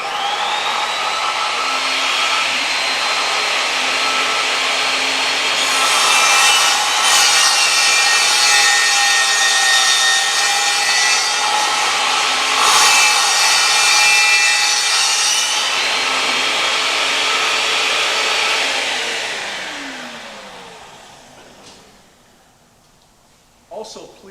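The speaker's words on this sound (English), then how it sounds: "Steve is going to demonstrate just a simple rip cut then with the midway fence" A vertical panel saw rip-cuts wood along a midway fence in a long, loud, steady whirring cut that swells slightly midway. It winds down to near silence at the end, with a brief knock.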